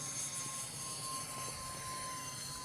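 E-Flite F-14 Tomcat RC jet with twin 40mm electric ducted fans, flying at about 70% throttle, a steady high-pitched whine and rush of air that holds level throughout.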